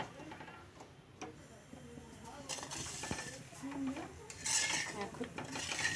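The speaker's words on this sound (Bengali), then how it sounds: "এবার কড়াইটা বসাবো" A kadai (wok) is set onto a stove with a few metallic clanks and scrapes of cookware, close by, while a voice is heard now and then.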